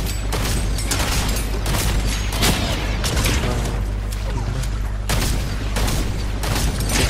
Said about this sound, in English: Can you just like, stop shooting?